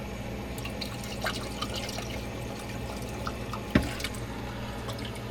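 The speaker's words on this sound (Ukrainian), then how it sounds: "зараз прольємо, подивимося, чи вода йде" Water poured into a drain trickles and drips steadily, with a faint running flow and one sharper splash partway through.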